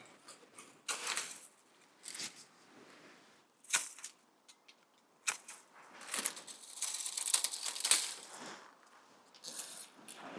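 Pruning shears snip and rustle through clematis stems outdoors in spring, a series of faint, crisp clicks and brushing crackles in an uneven rhythm with no talking.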